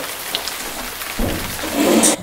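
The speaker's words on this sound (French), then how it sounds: "il pleut, il fait que ça" Steady rain falling outdoors in Belgium, a dense continuous hiss with a few louder spatters, no voices.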